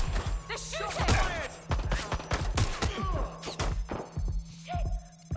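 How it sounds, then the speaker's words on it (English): Scattered gunshots and impact thuds during a firefight in Watch Dogs: Legion. Sharp irregular cracks sit over a busy background, and shouted voices come through between the shots. "Gunfire!"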